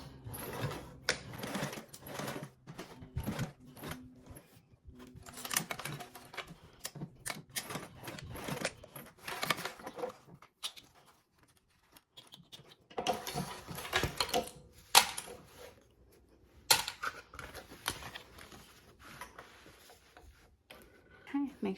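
A sewing machine stitches fabric lining along a 3/8 seam allowance for a small charm, running in short intermittent bursts of rapid mechanical clatter separated by quiet pauses.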